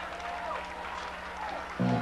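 A band gets applause from the crowd at a 1996 rock concert in St Paul, Minnesota: a brief, steady wash of clapping and cheering with a sustained tone underneath, and a louder burst right at the end.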